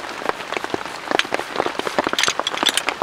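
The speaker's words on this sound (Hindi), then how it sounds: "नेचर के बीच और ऊपर से बारिश।" Heavy rain falling in a deep forest around a solo bushcraft shelter, a dense, steady patter of drops with sharper individual splats, close and continuous throughout.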